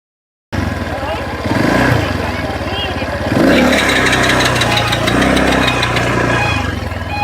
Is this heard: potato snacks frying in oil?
no